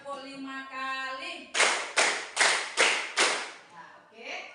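Children in a classroom clap in unison five times, crisp and evenly spaced, after a voice counts them in, with talking resuming afterward.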